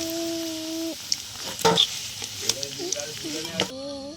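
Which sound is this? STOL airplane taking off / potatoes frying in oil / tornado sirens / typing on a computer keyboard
potatoes frying in oil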